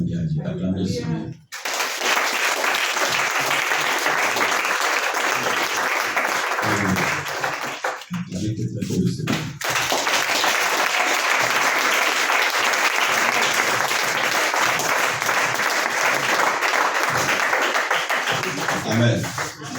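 A church congregation applauds loudly and steadily in two long sustained bursts, with a short pause between them and brief speech around the clapping.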